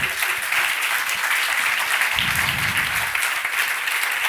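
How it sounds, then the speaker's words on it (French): An audience at a public science talk on vertigo and balance applauds the two speakers, a steady, full roll of clapping with a brief low rumble partway through. "Mesdames et messieurs, Mathieu Beranek, Arnaud Prost, vous pouvez les applaudir"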